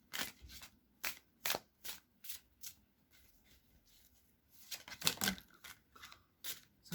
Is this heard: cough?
no